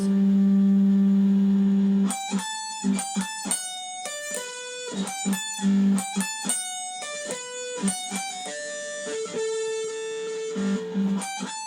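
A distorted electric guitar playing an intro solo holds one sustained note, then plays a quick run of bright, ringing notes with a wah-like edge, alone and close.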